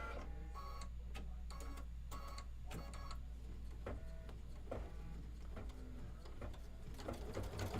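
An embroidery machine stitching a Kimberbell autumn design, with fast rhythmic needle clatter in bursts and brief pauses, steady motor hum underneath, moderately quiet and close, no talking.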